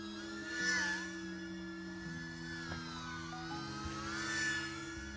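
A DJI Neo 2 FPV drone flown in manual acro mode, its motors whining steadily with pitch shifts and swells as the throttle changes, no talk.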